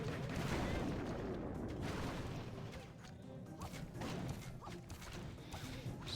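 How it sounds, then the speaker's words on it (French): Heavy mortar and artillery fire booms through a video game battle, with dense overlapping blasts and rumbling crashes that stay loud and continuous throughout. "Aïe, on risque de prendre un coup de mortier."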